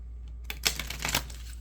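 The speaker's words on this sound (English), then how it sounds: "Some more shuffling is needed." Tarot cards being shuffled by hand, giving a short run of crisp riffling flicks and taps over a low steady hum, close and moderately loud.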